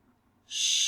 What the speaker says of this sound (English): Hear the bird.